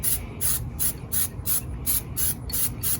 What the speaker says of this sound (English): you want to keep 6 inches away from it and spray